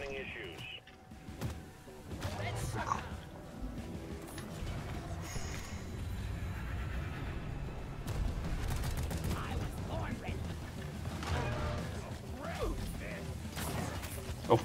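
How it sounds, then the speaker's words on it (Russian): Shotgun gunfire in the sci-fi co-op game Deep Rock Galactic, with sharp blasts and mechanical clatter scattered over a busy, noisy battle mix, while a voice talks over the action. "Заряжай, дробовик"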